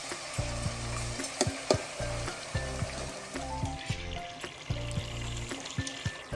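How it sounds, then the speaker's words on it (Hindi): Onions with garlic-ginger paste fry in a pan, a steady close sizzle broken by repeated scraping and stirring strokes and clattering utensil knocks. "ये लहसुन अदरक डाल के भी हमने 2 मिनट के लिए इसकी भुनाई कर ली"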